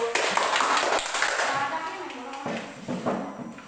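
A seventh-grade class claps hands together in a classroom, a brief burst of fairly loud clapping with a teacher's voice mixed in.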